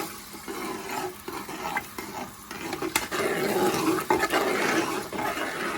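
Base gravy for Indian restaurant-style curry is stirred in a saucepan, a continuous bubbling, sloshing churn with soft scraping, close and moderately loud without any talk.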